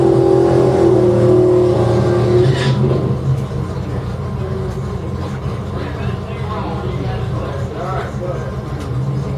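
A 1995 Mustang drag racing in the left lane at a Kentucky strip, engine roaring loud and close, then settling into a steady rumble alongside other engine noise, under a track announcer's voice.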